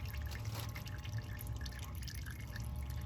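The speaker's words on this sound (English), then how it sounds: "you wanna watch the oil. You want to make sure it's falling in the drain pan" Engine oil dripping from a Jeep Cherokee XJ into a drain pan, a soft, steady patter of drips over a faint background hum.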